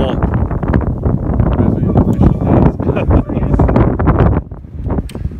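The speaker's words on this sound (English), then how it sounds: "Man, it's windy." Strong wind gusts buffet the microphone outdoors during a golf cart surfing session, a loud, continuous rumble that nearly swamps the people talking over it.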